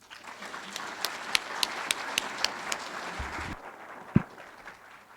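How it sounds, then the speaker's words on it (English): A lecture audience claps to welcome the speaker, scattered sharp claps in a steady run that fade out after about three seconds, followed by a single louder thump. "You've clapped once, so that's great."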